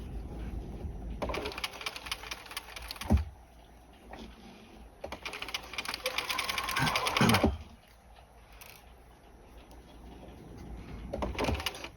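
A sewing machine runs short stitches along a garment collar, with bursts of fast mechanical stitching separated by pauses and a clunk as the work is turned at the corner.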